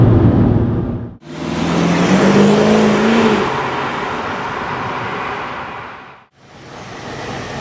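A BMW 550i Sport with a V8 and six-speed transmission pulls hard and loud, engine note climbing through the revs with a drop at each shift and rising again after.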